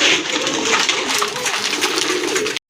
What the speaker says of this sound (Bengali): এক জোড়া কবুতর দেখতে পাচ্ছেন একদম হোয়াইট কালারের ভিতরে